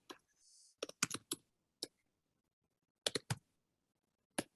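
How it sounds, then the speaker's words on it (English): Someone types on a computer keyboard in a quiet room, with a short run of clicks, a pause, then a few more scattered keystrokes, close and crisp. "I'm going to type it in."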